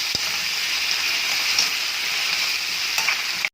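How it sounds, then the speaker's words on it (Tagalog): Papaya stir-frying in a hot pan alongside shrimp, a steady loud sizzle with faint scraping of a stirring utensil throughout, ending abruptly. "Ilalaglag na natin yung ating papaya. Haluin lang natin yan."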